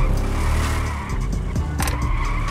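A video-game Honda NC700 motorcycle engine roars steadily at high revs, with a brief tire-squeal screech partway through, loud and continuous.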